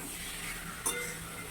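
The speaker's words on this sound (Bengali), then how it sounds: "এখানে এখন চলছে চিকেন কষা" Chicken kosha cooks in a pan with a soft steady sizzle and one quick stirring scrape or clink, all close and fairly quiet.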